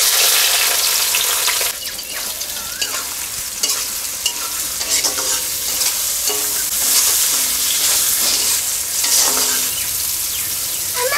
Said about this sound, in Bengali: গরম তেলে এলাচ, লবঙ্গ, দারচিনি, বাটি পেঁয়াজ কুচি